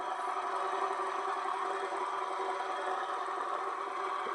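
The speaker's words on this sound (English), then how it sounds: "So let's go ahead and spin them." Brass metal fidget spinners whir in a steady, even hum with a faint ringing tone, holding a constant level throughout with no voices.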